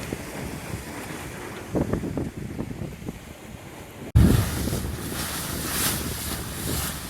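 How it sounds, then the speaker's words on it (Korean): Strong wind buffets the microphone on a boat at sea off Long Beach, LA, with waves surging and splashing around the hull; a sudden loud gust hits partway through and the roar continues. "오늘은 바람이 엄청 불고 파도도 높아서"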